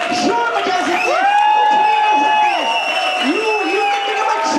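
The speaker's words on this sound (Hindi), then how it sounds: "आप लोग इन लोगों के लिए खड़े होकर तालियां बजा सकते हैं, whistles बजा सकते हैं, शोर बजा सकते हैं" An audience at a motivational training session cheers loudly, with sustained whoops and whistles over a continuous crowd roar; applause is not clearly separable in the din.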